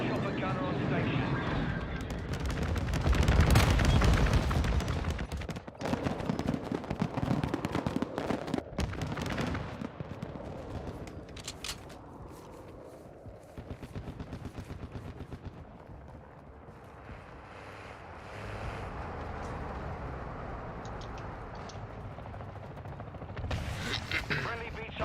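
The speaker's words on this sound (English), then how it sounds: "Friendly chopper gunner on station." Helicopter chopper-gunner fire in a Call of Duty match, bursts of rapid automatic gunfire and explosions mixed with game radio chatter and a player talking throughout.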